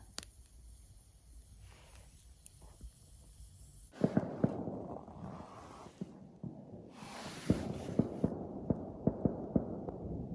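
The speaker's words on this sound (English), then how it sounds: "Someone must be lighting off the fireworks in the background." Fireworks go off in the distance at New Year during a wild camp outdoors, dull muffled thumps and crackles arriving in irregular bursts over a low rumbling background, faint and far away.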